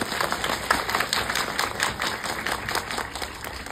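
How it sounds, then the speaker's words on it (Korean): Audience applause at a Korean film talk event after a screening: steady, rhythmic clapping from a crowd, moderately loud and continuous throughout, with no talk over it. "박수 한번 크게 부탁드리겠습니다"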